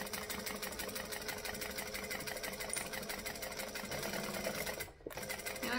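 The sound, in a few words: sewing machine stitching and back stitching a seam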